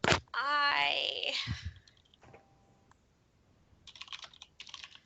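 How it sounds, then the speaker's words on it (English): Computer keyboard typing during a tabletop role-playing session, a run of quick light clicks in bursts near the end, after a drawn-out vocal groan and brief talk. "I'm like secretly typing things to the DM"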